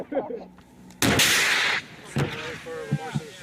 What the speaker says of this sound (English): ANA's gonna fire an RPG just because.